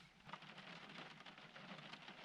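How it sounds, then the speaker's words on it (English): Rain patters steadily on a parked car's roof and windows, a dense, even hiss of drops heard from inside during light rain and moderate breeze, with a low rumble underneath. "when it stops raining."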